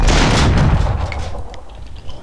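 Gunfire in Max Payne 2, a loud burst of shots and booming reports at the start that fades into a rattling, echoing tail over about two seconds.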